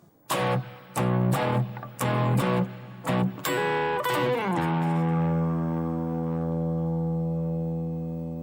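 Crunchy electric guitar chords strike in a choppy rhythm, then a bending lead line rises over them and settles into a long, ringing sustained note.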